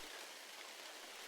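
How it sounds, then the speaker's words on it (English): Heavy rain pouring down as a story sound effect, a faint, steady, dense hiss of falling water with no distinct drops standing out, alone for a brief moment. "given how fiercely the rain was still pouring down"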